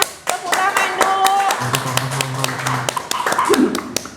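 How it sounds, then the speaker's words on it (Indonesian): An audience in a school podcast studio claps hands together, scattered sharp claps over a few seconds with a steady hum and some background voices underneath. "Tepuk tangan dulu."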